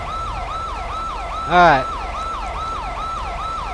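A police car siren wails in a steady, repeating rising-and-falling cycle in the LSPDFR game, loud and close, with a brief extra burst of sound partway through and a voice speaking briefly.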